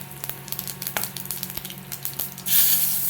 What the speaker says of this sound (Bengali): এবার তেলটা গরম করতে দিয়েছি, এর মধ্যে দিয়ে দেবো গোটা গরম মশলা